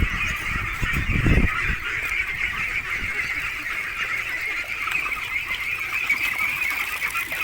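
Farm geese honk continuously as a dense, harsh chorus that persists throughout, with a brief low thump near the start and no talking.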